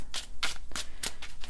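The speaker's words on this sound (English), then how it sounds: "this Celtic Tarot deck is one of those decks that just shuffles so smoothly" A Celtic Tarot card deck is shuffled by hand, giving a run of about five crisp riffling bursts in quick rhythm, close and clear with no talking.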